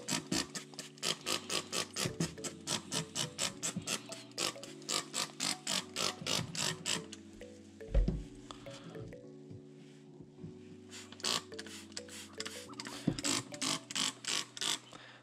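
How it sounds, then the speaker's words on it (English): Quick, repeated hissing spritzes of cleaner from a spray bottle onto a K&N air filter, pumped in rapid bursts, pausing midway, over a steady low hum. "we're gonna go ahead and spray both sides liberally"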